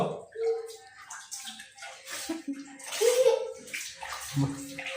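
A small child in a water bucket makes intermittent splashing and sloshing sounds, with gentle water gurgles, while a voice and adult speech drift in between the splashes.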